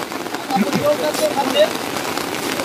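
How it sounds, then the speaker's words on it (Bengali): Heavy rain pours steadily over spectators at a football match in Purulia, a dense, loud hiss of drops covering the whole scene with faint scattered voices underneath. "ভিজে ভিজে ভিডিও করছি, দমে জল পড়ছে"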